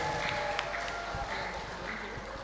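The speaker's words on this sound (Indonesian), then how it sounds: "Tepuk tangan yang meriah untuk Soba." An audience at a Ramadan sholawat festival claps for a performer, a dense spread of applause with voices mixed in, steady and moderately loud throughout.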